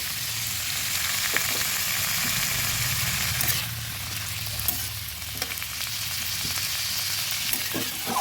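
Soaked, washed red lentils go into a frying pan of hot oil, giving a continuous moderate sizzle with occasional clinks and scrapes of a spoon, and a brief surge of crackle midway.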